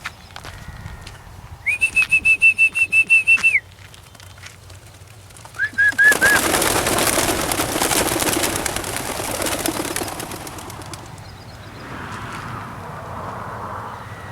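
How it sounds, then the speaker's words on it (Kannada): Female racing pigeons leave the loft in a loud, dense burst of wing flapping that fades over several seconds, preceded by sharp repeated electronic chirps and followed by quieter ambient noise. "ಈಗ ಬನ್ನಿ ಫೀಮೇಲ್ ಬರ್ಡ್ಸ್ನ ನಾವು ಹೊರಗಡೆ ರಿಲೀಸ್ ಮಾಡೋಣ"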